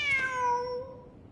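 A single clear cat meow in a video game, a loud drawn-out cry that slides downward and fades, with no voices over it.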